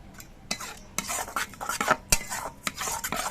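Spices for a pomfret fish curry, with yogurt, tomato and a little sugar, are stirred and fried in a pan. A spoon scrapes and clinks against the metal again and again in a steady rhythm over a soft sizzle, close and fairly loud, with no talk.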